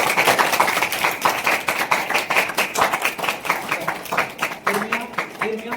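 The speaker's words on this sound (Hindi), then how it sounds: "एक बार जोर से ताली बजाओ प्रभु के लिए।" A church congregation claps loudly in quick rhythmic bursts during a prayer service, with voices and talk mixed through the clapping.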